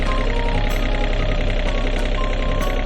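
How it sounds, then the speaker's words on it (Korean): A Hitachi ZX35 mini excavator with a Yanmar engine, built for farm work, idles steadily up close: a continuous even diesel rumble with a fine mechanical chatter, no talking. "지금 엔진음이 어, 지금 아이들린 상태입니다"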